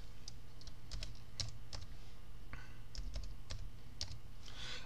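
Soft, scattered clicks of fingers typing a short word on a computer keyboard, quiet taps spaced irregularly over a low steady background hum.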